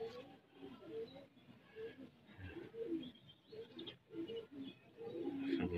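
Soft pigeon coos and bird calls over a murmur of background noise, with faint voices at times.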